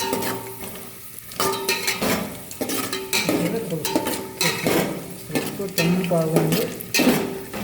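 Cloves, peanuts and almonds fry in a pan, with a soft ongoing sizzle broken by repeated scraping and clinking of a spoon stirring against the metal, close and fairly loud.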